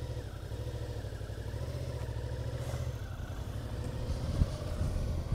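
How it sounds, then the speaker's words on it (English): Steady low rumble and mechanical clatter of a Suzuki V-Strom motorcycle engine shifting into gear and starting to pull away, close and continuous, with revs rising slightly near the end. "getting ready for my first ride on the v-strom. Put that up, put that in gear."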